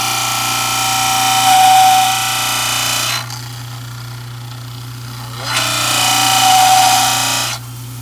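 A power tool grinds and trims a plastic dental bleach tray near the back molars, with two loud, sustained buzzing passes separated by a quieter, lower-pitched stretch.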